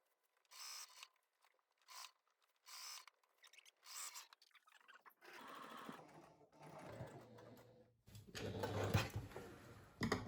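Fabric pouch edges are stitched on a sewing machine around the perimeter in short, close bursts, then a longer, louder continuous run of rapid needle chatter, with no voices.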